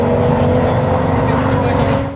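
A 1999 BMW Z3M Roadster's 3.2-liter inline-six in a racing game, a steady loud engine drone with strong low harmonics held throughout, running close and continuous.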